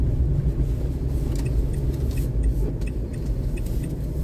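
Low, continuous engine rumble of a large truck driving, steady and close, with faint jingling on top and no speech.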